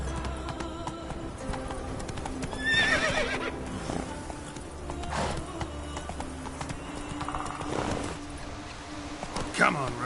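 Roach, the horse in The Witcher 3, gallops with steady clip-clopping hoofbeats and whinnies loudly several times. A voice speaks over the hooves now and then.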